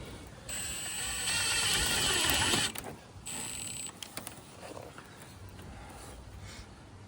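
A drill drives a self-tapping screw while a window awning is installed: a whining, ratcheting burst of about two seconds, a short pause, then a briefer second burst, fairly quiet and close.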